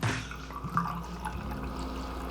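Red wine vinegar is poured into a measuring cup, producing a short, soft liquid splash and trickle that fades into quiet.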